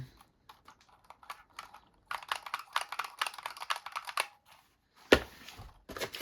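Keys clack on a Razer Huntsman keyboard, first in sparse single presses, then in a quick dense burst of typing, a pause, and another sharp flurry, close and crisp with no voices.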